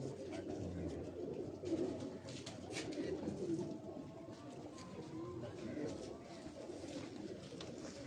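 Bengali breed pigeons on a rooftop loft coo in low, steady rolls, nearby and moderately loud, with people talking in the background.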